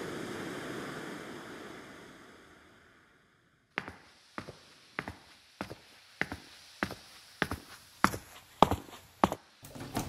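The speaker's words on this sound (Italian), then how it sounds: "Lo sentite? Questo è il mare che ho ascoltato per molti anni." Sea waves wash in a broad, steady hiss that slowly fades away over several seconds, followed by a run of evenly spaced sharp knocks or steps.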